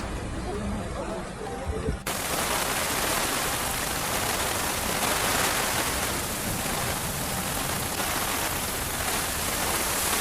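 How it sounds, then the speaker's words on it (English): Heavy rain pours steadily during a Jeddah flash flood, a dense, continuous hiss of downpour that stays loud and unbroken after a brief quieter opening. "The heavy rain lasted for several hours"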